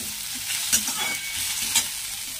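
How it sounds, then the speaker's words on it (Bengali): Chopped onion sizzles in a small amount of oil for a stuffed pointed gourd curry, a steady close frying hiss with two sharp stirring clicks of a spatula against the pan. "কম তেল দিলাম। এই যে পেঁয়াজ কুচিটা দিলাম।"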